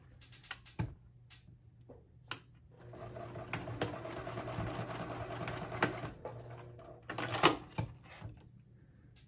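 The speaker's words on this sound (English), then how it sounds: "we're going to top stitch at 1/4 of an inch along this edge" A sewing machine topstitches a quarter-inch line along the edge of a color-block fabric wristlet, running in a steady mechanical patter for several seconds after a few short starts, with brief pauses and a final burst, close by.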